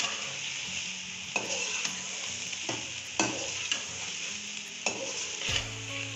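Crushed masala is stirred into sizzling meat, a steady frying hiss broken by rhythmic scraping strokes of a spoon against the pot, about one every half second to second, close and clear.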